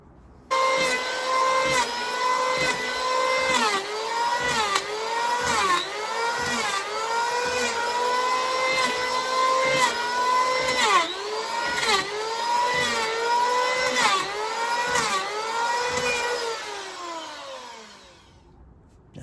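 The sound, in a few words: power planer shaving wood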